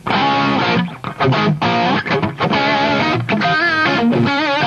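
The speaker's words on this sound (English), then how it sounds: "I'll also use it on the distortion channel. Get a lead tone on the amp." An electric guitar plays a lead line through an amp's distortion channel, loud and close, with sustained, bent notes and quick runs joined by brief gaps.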